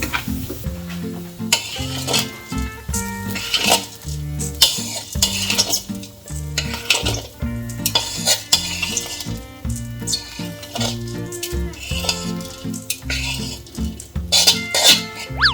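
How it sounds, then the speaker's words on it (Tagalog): Garlic and onion sauté in hot oil with annatto for kare-kare, a sizzle under busy, rhythmic spoon scraping and clanking against the pan, with music playing throughout. "Saka tayo magigisa ng bawang at sibuyas."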